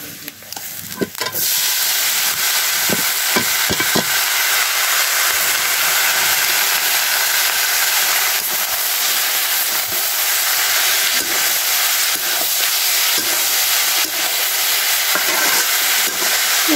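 Onion and taro frying in a pan on a cement stove, a loud continuous sizzle and hiss filling the whole stretch, with a few clinks of stirring near the start.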